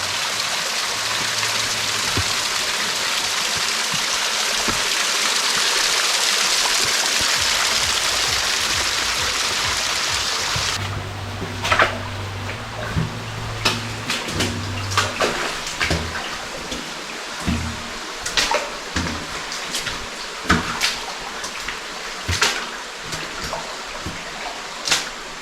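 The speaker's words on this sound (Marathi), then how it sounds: "हा झरा इकडनं येतोय." Water from a stream flows and splashes steadily inside a dark tunnel, a broad hissing wash that softens partway through and is then broken by scattered close knocks and footstep-like thumps.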